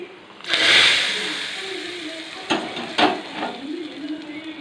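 Curry leaves, asafoetida and spices hitting hot oil for tempering in a drumstick and raw mango sambar, a loud burst of sizzling that fades into a steady hiss with a few stirring clatters.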